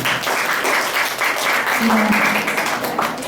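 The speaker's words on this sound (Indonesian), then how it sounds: "Tolong berikan tepuk tangan Ibu ya." Audience at a school Indonesian-language practical exam applauding, a steady dense patter of many hands clapping throughout, fairly close and even in level.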